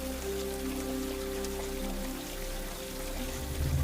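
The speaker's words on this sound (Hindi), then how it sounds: "बरसात ने तो हालत खराब कर दी।" Heavy rain falls steadily and loudly in a dense, continuous wash of drops on surfaces, with a low hum beneath it, setting a dark night scene on a wooded road near a roadside tea stall.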